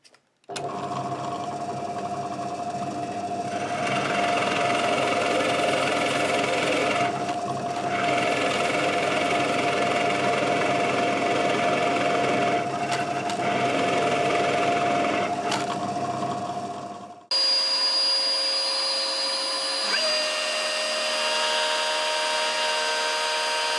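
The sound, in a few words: drill press with Forstner bit removing wood from bass body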